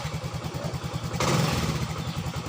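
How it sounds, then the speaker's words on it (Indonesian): A Yamaha Mio M3 scooter engine chugs in a steady low pulse, then catches and rises to a louder, fuller running sound partway through. "motor hidup kembali normal"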